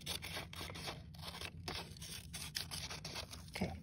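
Scissors cut along straight lines on paper stickers, giving faint, close snips and scraping cuts in an irregular rhythm over a low background hum, with no talking.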